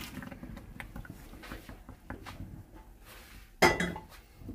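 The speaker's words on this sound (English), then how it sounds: "now it's time to dump out the pasta" Pasta for crab mac and cheese is tipped out of a pot to drain, with close clinks and rattles of metal cookware and a sharp louder clatter near the end.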